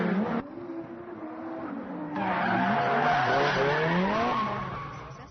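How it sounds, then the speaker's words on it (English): Car tires screech and skid at a drifting event in China, a loud sustained squeal rising over engine revving, with a brief quieter dip early before the howl swells and holds to the end. "masses of people are hooked on the sound of slashing tires"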